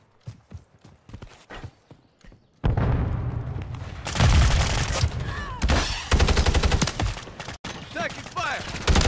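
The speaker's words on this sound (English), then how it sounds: "Taking fire!" Gunfire in Call of Duty Modern Warfare 3 multiplayer on a remade Vanguard Growhouse map, starting as faint scattered shots and then breaking into loud, dense, close bursts over several seconds with game sounds mixed in.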